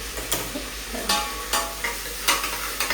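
Onions sautéing golden brown in a pan for mutton curry, a steady loud sizzle broken by periodic scraping strokes of a stirring spoon. The sound is close and continuous, with no voices.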